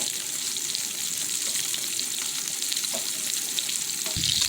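Chicken thighs sizzle steadily in a frying pan, a dense continuous crackle throughout with a light clunk near the end, no voices.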